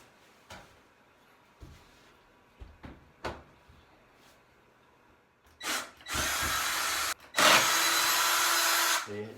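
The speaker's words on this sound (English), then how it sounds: "you just use your power drill to remove the screws" A power drill removes drywall screws in a shower remodel, with a few sharp knocks and handling clicks first, then two loud, sustained whirring bursts of the drill close by.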